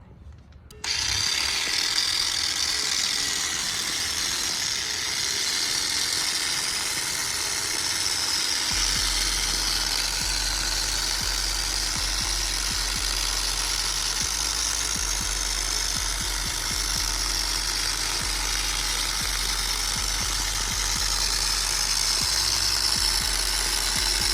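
A SPTA cordless 9mm dual action polisher runs steadily for edge work at speed 3.5, a continuous close whirring hum starting abruptly and holding constant throughout with no voices.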